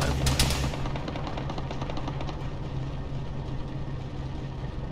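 Rapid autocannon bursts from a BMP armored vehicle in a military video game, a sharp volley at the start giving way to steady rhythmic firing under a constant engine drone.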